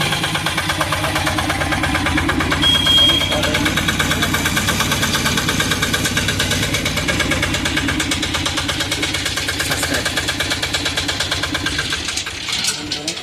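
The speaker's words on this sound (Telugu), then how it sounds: "బండి అయితే స్టార్ట్ అయింది" A Tata Zip small truck's diesel engine idles steadily and loudly throughout after a starting problem repair in a garage, a continuous low rumble with a faint voice in the background, easing off near the end.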